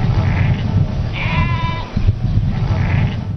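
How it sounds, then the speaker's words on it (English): Sheep bleating with livestock in Ethiopia: a few loud, wavering bleats close by, repeated over a few seconds with a steady low background rumble between calls. "sheep,"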